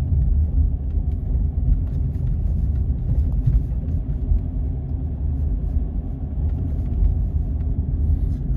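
A car's interior rumble holds steady as it drives along Hardfield Road on a Chadderton driving test route, a constant low road and engine drone with no talk.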